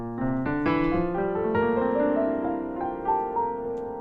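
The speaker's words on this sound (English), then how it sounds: "this borrows from the Lydian mode, which sounds like this." A soft, dreamy Lydian-mode chord played on keys, its notes entering one after another and ringing together, with a couple of gentle higher notes on top.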